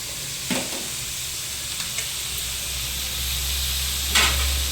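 A pan of bitter gourd fry sizzles loudly and steadily while a spoon stirs it, with occasional scraping strokes and a brief burst of louder hissing near the end; no one speaks.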